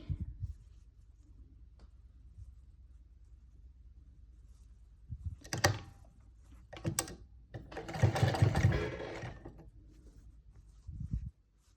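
A sewing machine stitches pleats into a salwar in three short bursts of rapid whirring, each separated by quiet pauses, close and moderately loud.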